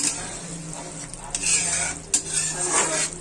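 Chicken kofte curry stirred in a pan, a spoon scraping and clinking over a steady sizzle of frying masala, close and fairly loud with no speech.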